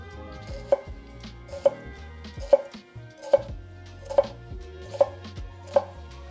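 A knife slices down through an onion on a cutting board, cutting toward the root end without going through, in seven evenly spaced, crisp chops about every 0.8 seconds over faint background music.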